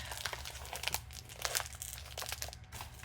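Crinkly plastic wrapping is crumpled and torn open in repeated bursts, close up and fairly loud, with no talking.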